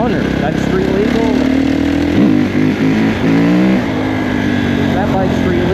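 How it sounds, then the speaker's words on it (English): A 2021 Kawasaki KX450 dirt bike on a trail ride revs up and down close by, its engine pitch sweeping and wavering through throttle changes and a brief dip, loud and continuous. "That bike's street legal, no problem. Oh, this bike is a hoot to wheelie."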